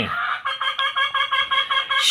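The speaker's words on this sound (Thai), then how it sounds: "เสียงไก่" A chicken clucks in a quick, steady series of short pulses, close and fairly loud, with no other sound.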